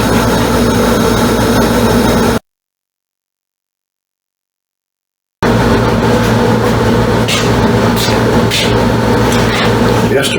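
A compressed air motor fitted as a bicycle assist runs with a loud, continuous hiss and rumble close by, cut off by a few seconds of silence before it resumes, louder and harsher.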